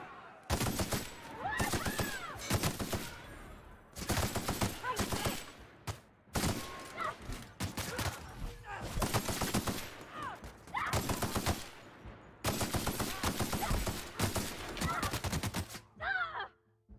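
Repeated bursts of automatic assault rifle fire in The Outer Worlds video game, loud and close, rattling in long volleys with short pauses between them and a brief softer sound at the end.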